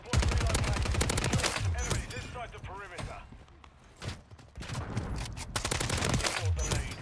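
Rapid bursts of Superi 46 submachine gun fire in Modern Warfare 3, repeated volleys of gunfire filling most of the stretch, with a brief lull in the middle and loud game action throughout.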